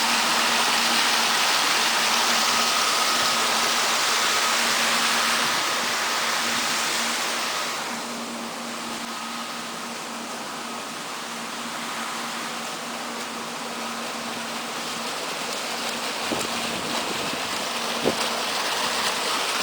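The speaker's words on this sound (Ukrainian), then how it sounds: "Тільки трошечки води поступає в дану трубу." Broad steady rush of water flowing into a pipe, loud and continuous, easing slightly partway through with a faint hum beneath and a couple of small knocks near the end.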